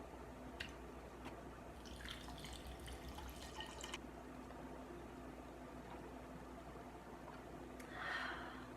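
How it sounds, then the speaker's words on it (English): Tap water runs into a glass holding a quarter of a lemon, a brief splashing rush over steady low room hum, followed by faint drips and quiet handling. "fill this glass with water"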